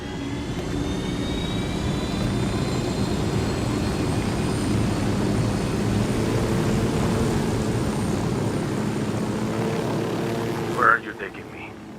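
Aircraft engine drone in Ghost Recon Wildlands, a steady loud hum with a broad roar running continuously, a brief thump near the end as the sound cuts off, with game dialogue voices under the engine.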